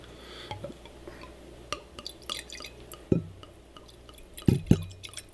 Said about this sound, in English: I always like the glug sound.